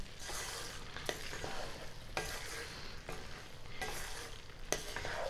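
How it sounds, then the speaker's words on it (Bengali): A spoon stirs sugar into a tangy vegetable dalna in a frying pan, giving steady scraping strokes every second or so over a continuous sizzle, close and moderately loud, with no voices. "চিনিটা ভালো করে মিশিয়ে দিচ্ছি।"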